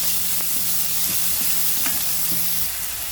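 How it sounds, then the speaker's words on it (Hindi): Salted onions sizzling steadily in a hot pan, with occasional scrapes and clicks of a spoon stirring through the continuous hiss. "नमक डालकर प्याज को नरम कर लेंगे, सॉफ्ट कर लेंगे।"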